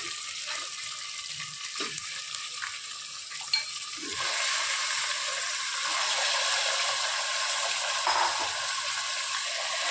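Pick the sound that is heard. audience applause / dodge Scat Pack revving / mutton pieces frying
mutton pieces frying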